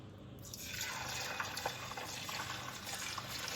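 Marinated mackerel pieces for fish pickle slipped into hot oil, the frying swelling from quiet into a steady bubbling hiss with small spitting pops, heard close and alone without voices.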